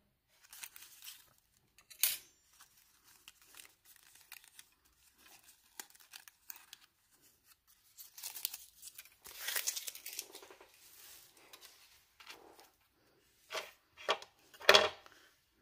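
Scissors cut paper embellishments shaped with ant-themed dies. Sparse, close snips and papery crinkles come in small irregular bursts with quiet gaps between them, and no one talks.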